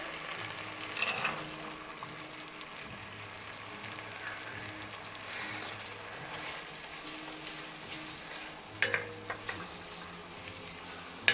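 Onions frying in melted butter in a pot for ham and cheese soup, a quiet steady sizzle with faint low background hum and a few brief stirring clinks.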